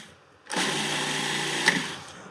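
Food processor grinding crumbs finely for a New York-style cheesecake crust: a sudden, loud, steady motor whir that starts after a quiet moment and runs evenly for nearly two seconds before cutting off, with no voices.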